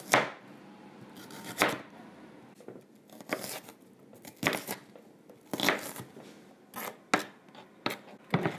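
A knife chops through an onion on a board in quiet, irregular strokes, each cut a crisp close thud with short pauses between.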